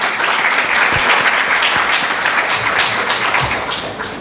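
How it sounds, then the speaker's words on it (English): Audience applause for the moderator of a holistic healing and self-care talk, a dense, steady wash of many hands clapping that holds for several seconds and tapers slightly at the end. "Can we have a round of applause for her?"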